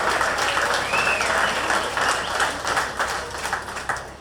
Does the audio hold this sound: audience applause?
yes